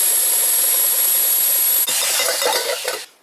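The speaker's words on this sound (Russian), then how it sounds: "Делаем отверстие небольшое." A small hole is drilled in a garage while a mini casting furnace is built. A loud, steady high whine runs for about two seconds, then changes to rougher grinding before it stops.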